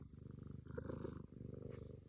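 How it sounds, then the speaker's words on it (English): A pet cat purrs close up in a steady, rumbling rhythm of quick pulses that carries on without a break, with no talking. "Oh, listen to that motor purr."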